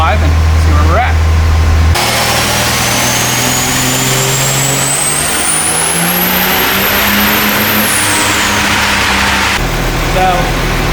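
A car on a dyno revs hard through a full run, the engine climbing steadily in pitch for several seconds before dropping off, loud and close, with idling before and after.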